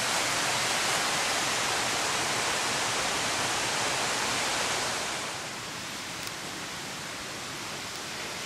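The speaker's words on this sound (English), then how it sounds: "This creek here coming out of Waterplug Hollow." A creek flowing out of a hollow in West Virginia produces a loud, continuous broadband rush of water close by, easing slightly in level toward the end, with no voices.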